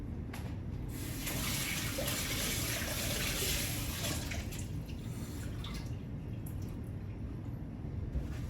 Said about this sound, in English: let's add some liquid to see what we can do with the pan